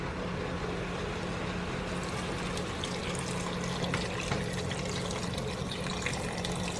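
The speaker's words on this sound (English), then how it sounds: "Then I'm going to add my water. 4 quarts of water to this." Four quarts of water pour steadily into a cooking pot for chowder, a continuous, full rushing splash that holds an even level throughout, close by, with no talking.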